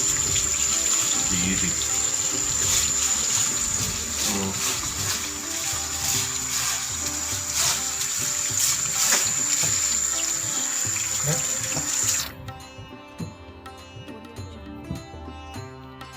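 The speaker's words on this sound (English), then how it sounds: "Then I generally use warm water. So let's use some warm water. The tap water should be enough." Tap water runs steadily into a kitchen sink for rinsing, a close, continuous splashing stream that cuts off near the end, with brief talking in the room.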